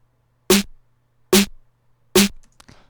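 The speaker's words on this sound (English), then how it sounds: "It's just like a distorted, kind of like crushed snare" Three evenly spaced hits of a distorted, crushed snare ring out alone, each bright and noisy with a short decay, followed by faint trailing crackle.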